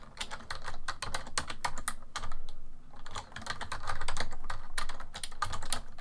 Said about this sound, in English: Time for some typing ASMR.